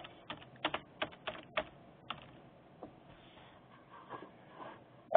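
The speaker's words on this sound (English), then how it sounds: "In this case, I'm going to type in American Red Cross." Computer keyboard typing as a name is entered in a staff client, a quick run of crisp key clicks followed by sparser taps, close and quiet in a still room.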